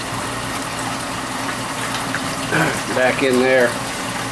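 Water returning into an aquarium sump, a steady close gush and rushing flow running throughout, with someone talking briefly over it near the end.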